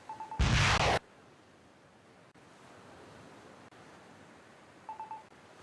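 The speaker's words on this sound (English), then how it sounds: "More missiles are launched." Missiles launching in the naval video game Naval War Arctic Circle: one loud, sudden roaring burst that cuts off after about half a second, followed by a faint hiss and a few soft electronic beeps.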